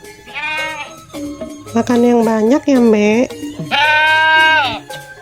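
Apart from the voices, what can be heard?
goat bleating in a cartoon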